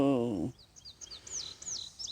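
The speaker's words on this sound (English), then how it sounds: "and listen to the birds." Birds chirp in short rising and falling tweets outdoors in a quiet natural setting, fairly faint and spaced out after a brief low tone at the start.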